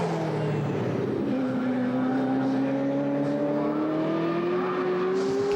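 Mercedes DTM race car driving on a wet track, its engine a steady sustained drone rising slowly in pitch as it accelerates, close and continuous throughout with no voices.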